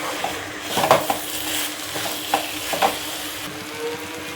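Duck meat sautés in a pot while a spoon stirs it, bringing a soft frying hiss broken by several sharp scrapes and clinks of metal on the pot, heard close with no talking.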